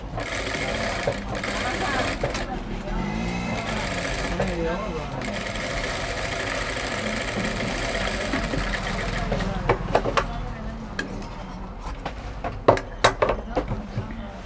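A sewing machine runs steadily while stitching thread piping onto a blouse edge, with a continuous mechanical hum. Its rattle sharpens toward the end, mixed with a voice speaking over it.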